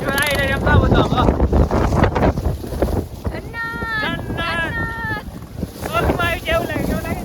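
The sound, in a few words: strong wind blowing at Saputara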